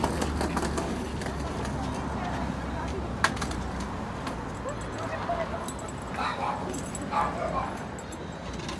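A dog at a property barks and yips in short bursts, medium distance, over a constant outdoor background, with people talking during it.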